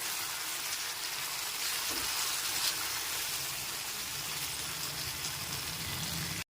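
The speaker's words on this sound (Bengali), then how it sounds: "টমেটো বাটাটা আদা রসুন বাটার সঙ্গে খুব ভালো মতো কষাতে হবে" Tomato paste frying with ginger-garlic paste in a pan on a low-medium gas flame for chicken kosha, giving a steady, dense, hissing sizzle that runs unbroken from start to finish with no talk.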